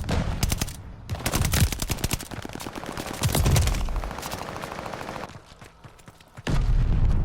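Gunfire in the shooter game Call of Duty: Vanguard: loud, rapid bursts of automatic shots come in several clusters separated by brief pauses, with a heavy final burst at close range.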